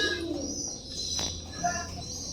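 Fillback pigeons cooing softly: a few low, rounded coos heard close but faint against a quiet background, with no talking.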